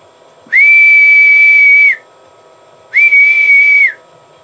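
Two steady whistle tones from a transmitter through a custom Scorpion amplifier, one long and one slightly shorter, separated by a pause, loud and pure over a low background hum.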